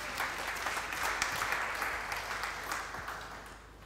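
A church congregation applauds and acclaims the Lord, a steady wash of clapping hands with scattered cheers that gradually fades toward the end.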